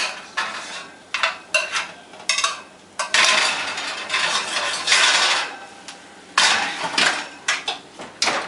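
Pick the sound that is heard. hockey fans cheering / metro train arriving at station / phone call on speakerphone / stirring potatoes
stirring potatoes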